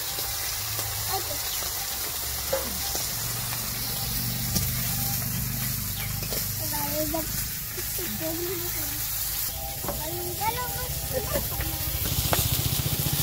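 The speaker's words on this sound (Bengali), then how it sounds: "মাছগুলো ভেজে নিয়েছি" Silver carp pieces fry in hot oil in a wok, giving a steady, broad sizzling hiss that runs through the whole span while people talk over it.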